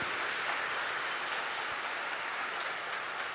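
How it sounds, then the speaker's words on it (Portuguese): A church congregation claps together through a Sunday Mass homily, a dense, even wash of applause that fills the room at moderate level, with no speech over it. "Uma salva de palmas para Jesus e para a sua cruz."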